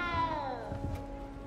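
A cat in the video game Hogwarts Legacy lets out one clear, falling meow up close, fading into a low murmur of background game ambience without speech.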